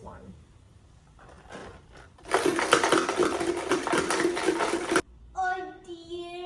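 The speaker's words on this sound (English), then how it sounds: "I use the pink colored grip band shakers, which makes a loud, high amplitude sound." Pink grip band shakers rattle in a loud, sharp, hissy burst lasting a few seconds, preceded by quieter shakes and followed by a talking voice.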